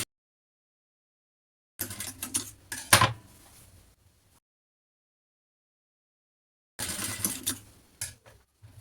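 A sewing machine stitches a top in two close bursts, each about two seconds of rapid mechanical whirring, separated by a long silent pause, with a few light clicks at the end.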